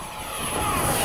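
An FMS 70mm electric ducted fan F/A-18 radio-controlled jet whooshes past with a steady, rising high-pitched whine, loud and continuous, building over a second.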